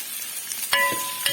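Sliced onions go into a pan for Kerala-style beef fry, giving a soft sizzle and stirring scrape with a sharp clank of utensil on pan partway through, close and alone without talk.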